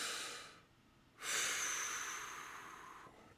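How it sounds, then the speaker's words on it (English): A deep breath taken in a quiet room, one loud airy inhale-exhale rising sharply, holding steady and slowly fading, heard alone without talk. "I'm going to take a deep breath."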